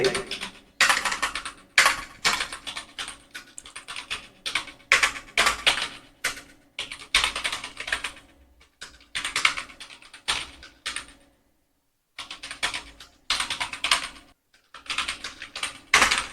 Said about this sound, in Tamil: கொட்டேஷன் நான் டைப் அடிச்சுக்கிறேன்